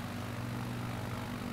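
A propeller airplane engine drones steadily at high altitude over the Himalayas in Microsoft Flight Simulator 2020, a constant low hum with no voices.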